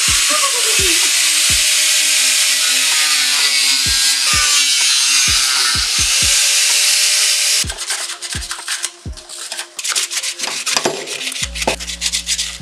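Repeated scraping strokes of a hand file on the small edges of a hard airsoft launcher capsule, with sharp rasping bursts close up; the strokes grow rougher and more irregular toward the end.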